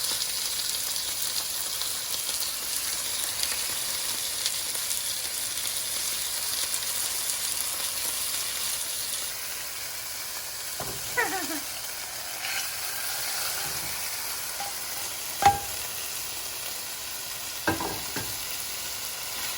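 Fish pieces coated in masala frying in a pan, Sri Lankan style, with a steady close crackling sizzle throughout and a few sharp pops and utensil clicks near the end.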